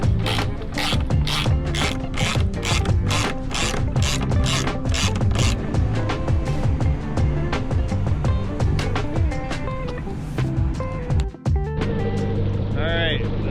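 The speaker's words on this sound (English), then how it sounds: "We get our torque wrench, torque it down." A torque wrench ratchets rapidly as Loctite-coated bolts for a Riva ride plate on a Yamaha FX Cruiser HO 1.9L are tightened, dense loud clicking in quick bursts close by, heard alone without talk.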